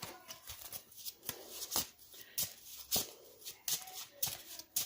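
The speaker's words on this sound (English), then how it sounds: "to shuffle this back into the deck" A Yu-Gi-Oh! card being shuffled back into its deck, heard as quiet, close papery flicks and snaps in an irregular run of about a dozen short bursts.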